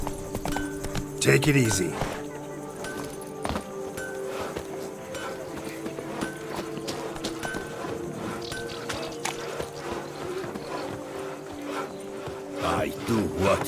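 Roach, a horse in The Witcher 3, clip-clops along at a steady walking pace under game music and ambience, with voices speaking over the hoofbeats.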